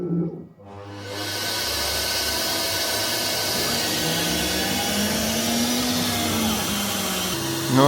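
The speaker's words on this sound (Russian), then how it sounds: "Пылесос." Vacuum cleaner beside a Carvera Air CNC mill starts up after a brief quiet moment and then runs as a loud steady roar with hiss and a faint drifting whine.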